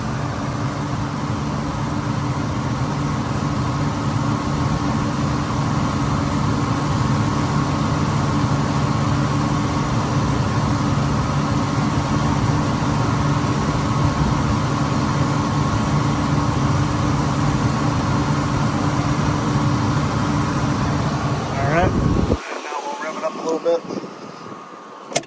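A black 1996 Lincoln Town Car Signature with 117K miles idles steadily up close, a low, even hum carrying for about 22 seconds before cutting off abruptly into a few brief knocks and rattles.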